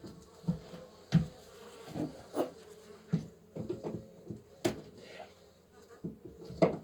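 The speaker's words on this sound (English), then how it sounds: "The sound of a hive, of a colony, will also indicate the presence of a queen." Honeybees in an open hive give a faint, low buzzing hum broken by irregular soft knocks and bumps, fairly quiet and close.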